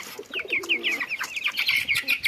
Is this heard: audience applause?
no